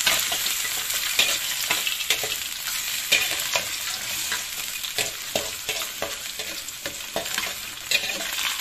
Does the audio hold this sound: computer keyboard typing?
no